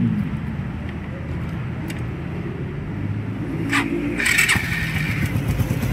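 A motorcycle engine, just fixed by having its guide part replaced, cranks and fires up, then idles with a low, steady rumble alongside workshop noise and a few metallic clicks, with people talking nearby.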